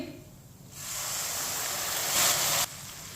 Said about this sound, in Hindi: ये मैंने 2 प्याली पानी डाल लिया है।